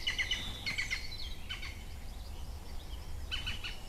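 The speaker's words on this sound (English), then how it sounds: "I can hear a woodpecker over the back of here." A woodpecker calls from somewhere in UK woodland, a few faint, distant bursts of high chirping notes over a low background rumble.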